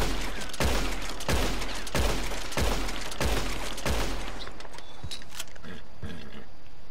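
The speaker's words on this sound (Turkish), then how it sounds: "Öncelikle arkadaşlar Carbine Repeater'dan başlıyoruz. Tamamen bitireceğim." Carbine Repeater lever-action rifle in Red Dead Online emptying its seven-round magazine: seven loud, evenly spaced shots about half a second to a second apart, each with a short echoing tail, followed by quieter mechanical clicks.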